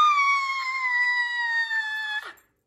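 A person gives one long, loud, sustained scream during a children's nursery song session, holding the pitch steadily for about two seconds before it cuts off abruptly.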